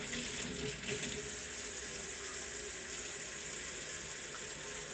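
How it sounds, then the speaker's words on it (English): Tap water runs in a steady, fairly quiet stream as dentures are rinsed under it at a sink, a constant splashing flow without talk. "So I'm going to first rinse my dentures."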